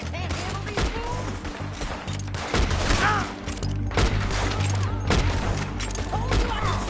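Gunfire in Red Dead Redemption 2 during a shootout, with repeated loud shots and booms in dense, rapid bursts over a busy bed of game noise across the whole stretch.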